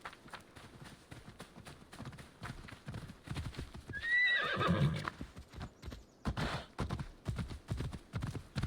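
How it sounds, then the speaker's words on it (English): A horse summoned in the Assassin's Creed video game near Sparta arrives with rapid clip-clopping hooves and a loud whinny midway, the galloping hoofbeats continuing close and clear afterward. "Call my horse."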